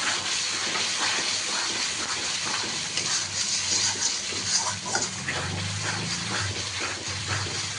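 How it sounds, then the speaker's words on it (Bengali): Spice masala for a goat head curry sizzles and hisses in a pan as it is stirred and fried, a steady broad crackle with scraping strokes and a low hum underneath, no talking. "মশলাটাকে ভালো মতো কষিয়ে নিতে হবে।"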